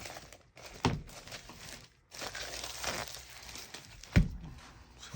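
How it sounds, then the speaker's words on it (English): Plastic packaging of a tabletop amphitheatre arena kit cut and opened, with close crinkling and rustling broken by a few sharp thunks and cracks. "Just make a careful cut there to open it."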